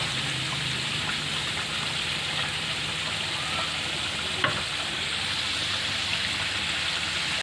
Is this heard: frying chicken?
yes